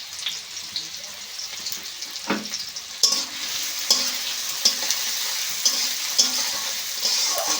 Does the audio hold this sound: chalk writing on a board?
no